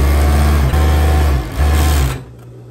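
A sewing machine stitches the side seams of a long dress in short loud bursts, its motor hum broken by brief pauses before stopping near the end.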